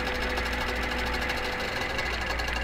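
A QBOT quilting robot stitching a half square triangle makes a steady, continuous mechanical whir and rapid needle chatter, close and even throughout with no voices.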